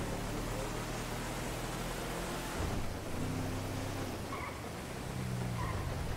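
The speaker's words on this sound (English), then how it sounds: "On this rare rainy day here in Los Santos." Steady wash of rain in Grand Theft Auto 5's Los Santos, a constant broadband hiss with a low engine hum underneath and faint tonal game sounds drifting in and out.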